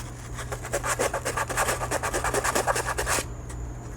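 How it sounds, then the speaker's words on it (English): Rapid rhythmic rasping of sandpaper rubbed back and forth, close and fairly loud, over a low steady hum, stopping abruptly near the end. "I'm just going to use this 3M smooth so I can do a little bit of sanding"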